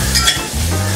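Onions sauté in a pan with a loud, close sizzle and a brief stirring scrape over one second, with no speech.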